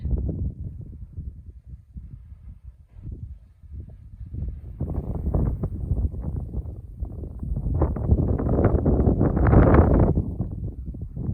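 Strong wind buffets the microphone on a mountain trail along the Guadalupe Ridge, a loud low rumbling roar that swells and gusts, building toward the end, with no talking.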